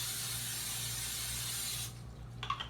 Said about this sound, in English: This is olive oil spray.